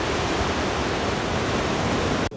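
Rough, storm-driven sea waves pound the shore at the Azureti beach resort, a dense continuous roar of surf and wind, loud and close, cutting off abruptly at the end.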